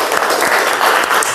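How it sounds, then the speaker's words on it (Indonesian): Classroom students clapping together, a short, loud, continuous patter of many hands filling the room at close range. "tepuk tangan buat kita semua"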